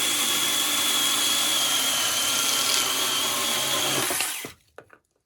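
A Saker mini chainsaw cuts through a small 50 by 100 mm piece of hardwood, a loud, high, steady motor whine under load for about four seconds, then cutting off with a few clunks of wood falling.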